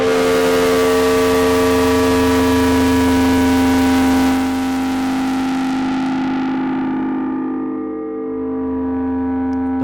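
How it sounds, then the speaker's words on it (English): A loud, sustained tone smeared by about 30 stacked reverbs and distortion, a dense wash of ringing harmonics that slowly thins as the tail decays. "The reverb tail is crazy."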